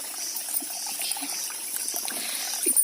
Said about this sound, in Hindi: और ये है पानी का गधेरा, जहां से आता है हमारे घर को पानी।